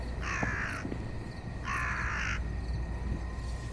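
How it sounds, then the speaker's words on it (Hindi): Crows caw in the Bhangarh horror game, two distinct harsh calls about a second apart, clear over a low ambient background with no talking. "हाँ भाई कौवे।"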